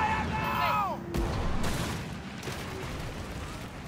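Cannon fire from sailing ships in the pirate naval combat game Skull and Bones, a sharp blast followed by a rumbling boom and ongoing sea battle noise, with an excited voice talking over it.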